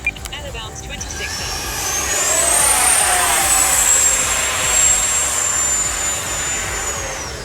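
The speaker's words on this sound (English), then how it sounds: "The FMS 2100 Pro motor is a solid choice. This thing's got some power, man." FMS Rafale 80mm RC jet with an FMS 2100 Pro motor, a loud rising electric ducted-fan whine that swells after a brief click and holds a steady high pitch, with a faint voice in the background.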